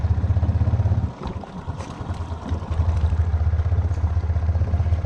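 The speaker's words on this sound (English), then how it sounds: "I ain't gonna hit the gas hard because I want to see if we can crawl through it" A 420 ATV engine crawls through a creek, a steady low rumbling drone that dips briefly as the throttle eases, then builds back to a loud, even idle-like growl, with no talk.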